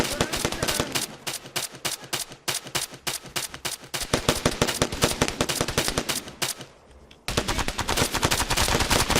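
Sustained automatic gunfire in the ARMA 3 combat game, with dense rapid bursts of shots that dip briefly into a quieter stretch before a loud barrage resumes.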